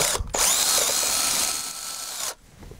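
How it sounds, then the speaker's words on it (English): A power drill bores a hole to stop a crack, a loud, steady high-pitched whine running for about two seconds after a brief start, then cutting off abruptly. "I'll hand you this here drill."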